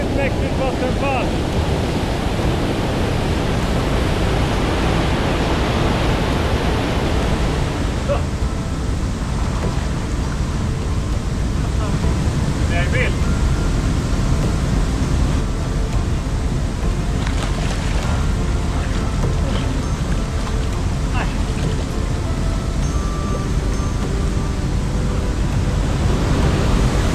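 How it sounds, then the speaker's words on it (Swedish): A powerful waterfall in northern Lapland roars as a steady, dense broadband rush, loud and continuous throughout with no break. "Riktigt mäktigt vattenfall."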